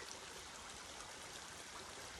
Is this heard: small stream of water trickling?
yes